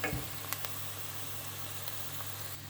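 Flour and onions roasting in oil in a pot for red lentil soup give a steady, faint sizzle with a low hum beneath and a couple of soft clicks, with no voices.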